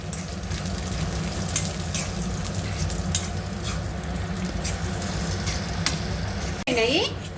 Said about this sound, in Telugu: ఎండుమిర్చి మినప్పప్పు శనగపప్పు ఇవి కొంచెం ఫ్రై కావాలి